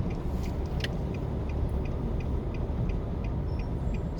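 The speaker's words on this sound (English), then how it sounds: "Just taking a drive through Old Harbour." A car drives through the town of Old Harbour in St. Catherine, Jamaica, its steady engine and road rumble filling the cabin continuously with faint ticking above, no voices present.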